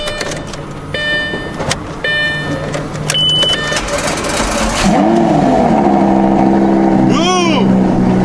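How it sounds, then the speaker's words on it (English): A 2012 Lamborghini Gallardo Super Trofeo with a salvage history cranks after beeping electronics and fires up near and loud, then settles into a steady rumbling idle with a brief rev rising and falling. People talk in the background. "So the Lambo starts, no problem."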